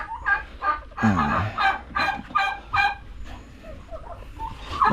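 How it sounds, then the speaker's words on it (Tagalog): Farmyard poultry, including a brooding hen, let out a run of loud, close, rapid gobbling and clucking calls in separate bursts, then quieter fowl sounds trail off. "may manok naglimlim dyan"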